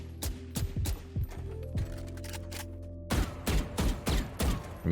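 Single rifle shots fired one at a time in the shooter game Valorant, crisp near reports with mechanical clicks, spaced slowly at first and then coming in a quicker run of taps, with no talking.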